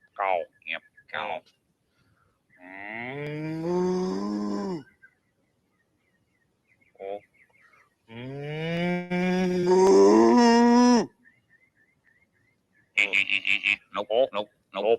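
A human voice imitates a cow mooing in two long, drawn-out lowing calls, close and fairly loud, between brief bursts of other vocal sounds and short silences.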